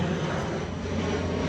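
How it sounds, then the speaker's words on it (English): A private propeller plane passes overhead, giving a steady, broad engine drone that holds at an even, moderate loudness throughout. "Looks like it's a private plane."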